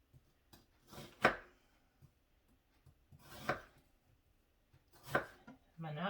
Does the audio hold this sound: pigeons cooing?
no